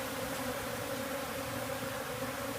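A live honey bee swarm drones steadily as the insects crowd into a cavity to take it as their new home, a dense, even buzz that holds constant throughout with no voices.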